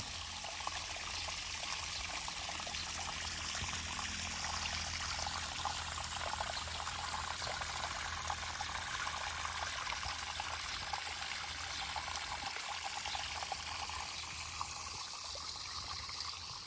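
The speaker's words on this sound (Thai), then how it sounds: "น้ำตรกที่แสนสวยงามที่เราทำขึ้นเอง" Water spills steadily down a homemade garden waterfall into a fish pond, a continuous close splashing trickle and pour that runs evenly throughout with no voices.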